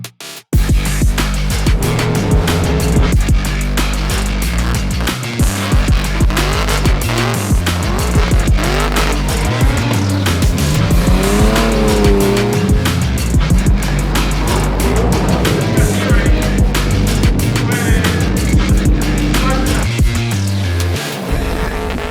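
A race car roars continuously and loudly on a wet track at Queensland Raceway, engine revving and shifting, with tires squealing at times on a fast drive.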